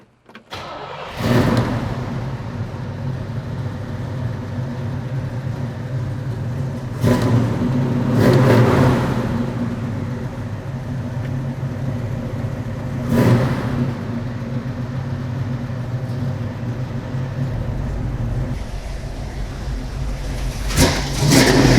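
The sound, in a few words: 1967 Chevelle V8 engine running, revving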